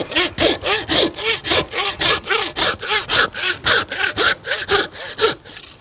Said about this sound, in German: Wir sägen es erstmal oben an.